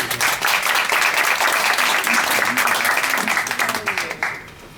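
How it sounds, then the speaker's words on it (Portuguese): Audience applause at a Brazilian art exhibition event in Japan, dense sustained clapping from a crowd filling the room, steady throughout before tapering off in the last moment. "Vamos aplaudir o Antônio, por favor."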